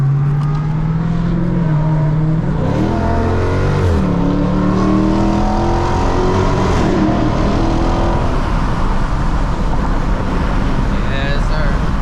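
A car cruises on a Los Angeles freeway at night with the windows partly down, its steady loud road and wind rumble filling the cabin while someone talks over it, with engine tones rising and falling as it accelerates.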